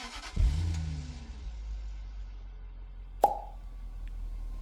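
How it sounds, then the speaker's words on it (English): A 2001 Jaguar XK8 engine cranks and catches with a sudden loud burst, then settles into a steady, low idle rumble. A single sharp click follows a few seconds later. "Let's fire up the Jag."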